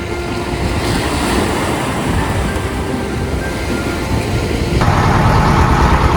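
Tourist boat engine running steadily as the vessel sets off, a loud continuous drone with broadband rumble that grows slightly louder near the end, with no talking over it.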